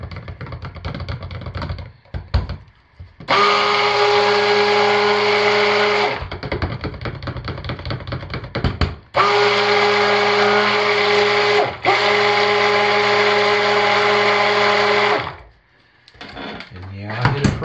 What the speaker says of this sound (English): Give it a buzz with a stick blender to make sure everything's well mixed